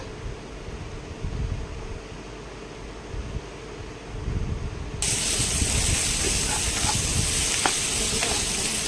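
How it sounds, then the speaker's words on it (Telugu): Tomatoes fry in a pan for a brinjal masala gravy: a moderate frying crackle that jumps to a louder, brighter, continuous sizzle partway through, with faint stirring scrapes. "ఇప్పుడు టమాటాలు యాడ్ చేసి ఫ్రై చేసుకుందాము"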